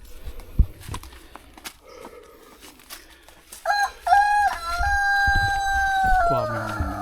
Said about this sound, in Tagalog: Kuha mo yung mga manok.